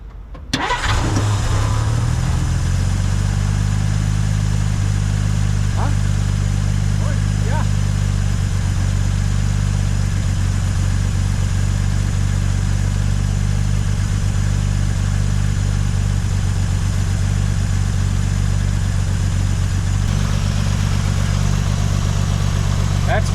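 A 1950 Dodge Meadowbrook engine cranks and catches right away, then settles into a steady, loud idle that runs unbroken for more than twenty seconds, with a faint click or two over the engine's even rumble.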